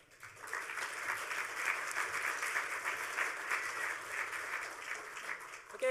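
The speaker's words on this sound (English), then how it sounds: "let's give these guys a round of applause." A conference audience at a hacker gathering applauds a talk on running an open source hardware company, sustained broadband clapping from many hands that swells quickly and stays fairly loud, with faint voices underneath.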